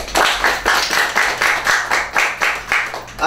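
A room full of people at a graduation awards ceremony claps together in steady, even bursts, loud and close, with no voices over it.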